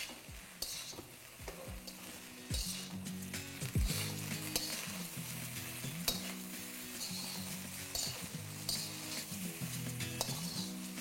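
Vegetable fried rice seasoned with salt, sugar and MSG is stirred and tossed in a pan, with steady sizzling under repeated scraping strokes and occasional clinks of the utensil against the metal.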